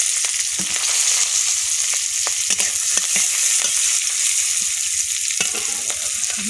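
Onion, green chilli and bay leaf frying in hot oil, a steady loud sizzle with occasional stirring scrapes and pops, close up, no talking.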